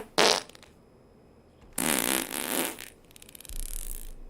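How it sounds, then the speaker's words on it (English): A cartoonish fart sound effect from a cryptocurrency website, triggered by a key press: one short blast, then a longer rasping one, then a buzzier tail, loud and close with no talk. "push F to fart"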